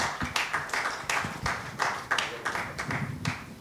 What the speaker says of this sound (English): So that deserves a clap.